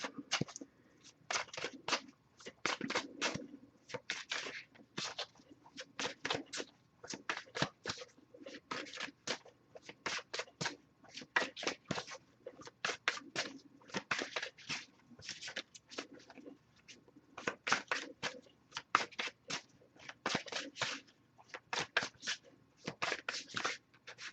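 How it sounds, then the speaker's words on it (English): A deck of tarot cards is shuffled over and over, a steady run of quick papery riffles and soft slaps lasting the whole stretch, close and fairly quiet with no talking. "I'll shuffle to see if we get one from them to you before I go pick that card up"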